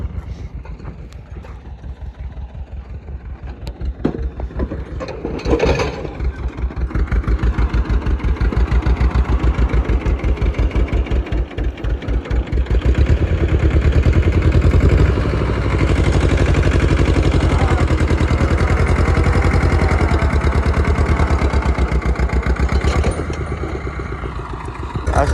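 A tractor engine runs continuously during pipeline work, a steady chugging rumble that rises and settles as it works under load, loud and close, with occasional clunks and knocks.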